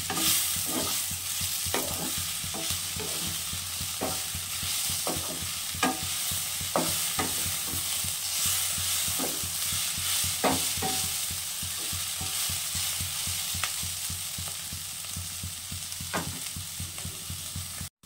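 Prawns and radish fry in a hot pan with a dense continuous sizzle, while a utensil scrapes and stirs in irregular sharp strokes throughout; close, with no talking.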